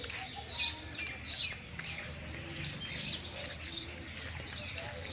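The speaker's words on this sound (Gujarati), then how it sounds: "ચકલીઓના મારા બહુ સરસ લગાવેલા છે અંદર" Small birds, likely sparrows, chirp near nest boxes set up in the grounds of a temple and cremation-ground park, with a few brief tweets standing out over a steady low outdoor background hum.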